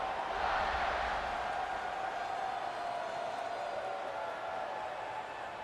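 Stadium crowd in the video game EA Sports College Football 26, a dense, steady roar of cheering that stays loud throughout with only a slight fade toward the end.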